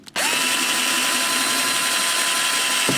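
A power drill tightens a bolt on the arm panel of a Titan Osaki OS 4000 massage chair, running as one steady, loud whir that holds for nearly three seconds and ends abruptly.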